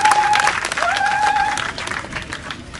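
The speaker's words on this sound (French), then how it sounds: "Ça s'applaudit." An audience breaks into applause at an outdoor event, dense clapping sustained across the whole stretch and fading slightly toward the end, with a whistle-like tone and crowd voices mixed in.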